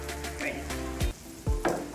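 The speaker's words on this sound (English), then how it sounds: "I put a decent amount of butter on my griddle." Apple slices cooking in melted butter on a griddle, a close, busy sizzle with a couple of soft thuds and scrapes from stirring, no talking.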